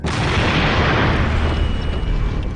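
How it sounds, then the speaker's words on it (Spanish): Large explosion blast: a sudden loud, broadband roar that hits at once and rumbles on densely for a couple of seconds with heavy low-end energy, slowly thinning out. "Ha sido una explosión muy grande, técnicamente fantástica."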